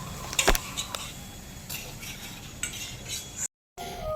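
Cutlery clinks against a plate or bowl as two sisters eat Maggi noodles at home, a few sharp light taps early on, then softer scattered scraping under a quiet room hum.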